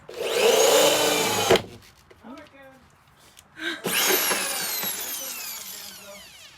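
A power drill whines at high speed in two long bursts while drilling a hole in a Sprinter van, with a short quiet stretch and brief voices in between.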